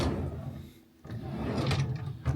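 A desk drawer in a hotel room slides open and shut, a close, rumbling scrape with a brief pause between the movements and a soft knock at the end.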